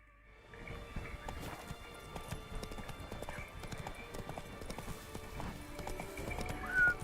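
Roach, the horse in The Witcher 3: Blood and Wine, gallops with steady rapid clip-clop hoofbeats, closing with a loud nearby neigh over faint game ambience.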